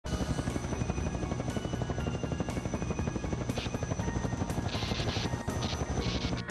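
A helicopter flies along a high-voltage power line feeding Las Vegas, its rotor chop loud and steady throughout with a continuous engine whine, no voices.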